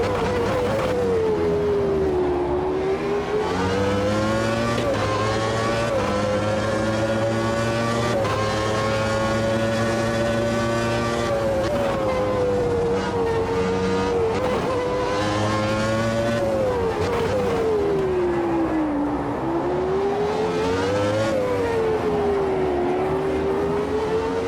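A 1991 Formula One car's engine screams loudly and continuously in a sim racing game, its pitch climbing and dropping through gear shifts and corners across the lap, with no talking over it.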